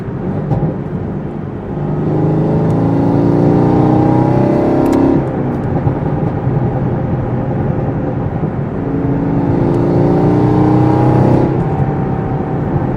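Tuned Chevrolet Camaro ZL1 engine pulling hard under acceleration, two loud rising revving surges, each climbing through the gears before backing off, heard from close by with a steady roar in between.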